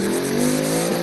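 Ford Mustang at a drag strip, its engine roaring loud and close with a steady high revving drone throughout a short burst.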